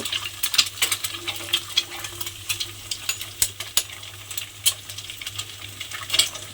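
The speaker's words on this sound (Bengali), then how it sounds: "সেই ডিমটা আমি এর মধ্যে ফাটিয়ে দিয়ে দেব" Eggs crackling and frying in a pan with garlic, a steady faint sizzle broken by frequent sharp pops and spatters, close up with no voices.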